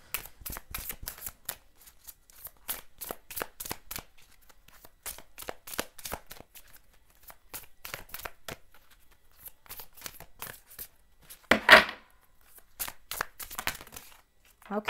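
Tarot cards are shuffled and drawn in repeated quick bursts of papery riffling and flicking, close and crisp, with short pauses and one louder rustle near the end.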